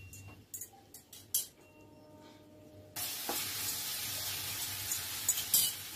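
Chopped green chillies and vegetables are stirred together in a hot pan, giving a steady close sizzle and hiss that swells louder halfway through, with a few scraping stirs near the start.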